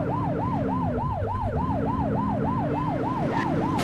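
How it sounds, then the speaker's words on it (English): A police car siren wails in a fast, even up-and-down cycle, loud and continuous over a low engine rumble, in The Precinct video game. "blip the siren to make them pull over"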